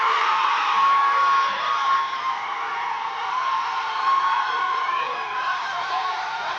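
A crowd at a family NFL draft watch party in Cocoa erupts in cheering, a continuous wash of shouts, whoops and excited voices that stays loud and dense throughout.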